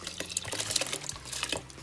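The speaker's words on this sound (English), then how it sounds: "you just gotta wash your lentils really good and just add it to the water" Washed lentils tipped into a pot of water, giving a close burst of splashing, sloshing and dripping that keeps churning for about two seconds with no voices.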